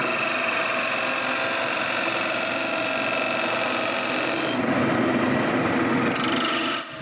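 Carbide-tipped woodturning tool with a modified rounded tip cutting wood on a lathe, giving a steady, loud scraping rasp that runs unbroken for about seven seconds before stopping abruptly.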